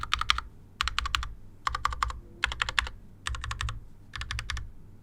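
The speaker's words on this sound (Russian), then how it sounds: "Со смазкой свечи нажимаются и издают звук по-другому, нежели без смазки." Bursts of rapid clicky typing on an AKKO mechanical keyboard with lubricated switches, close and crisp, arriving in six quick clusters separated by short pauses, with no voices.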